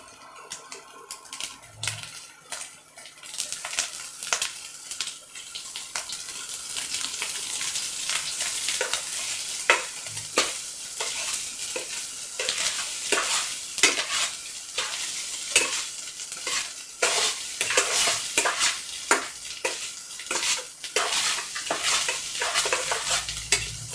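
Food fries in ghee in a pan while a spatula stirs and scrapes it, a close, steady sizzle punctuated by repeated metallic scraping clicks, with no talk.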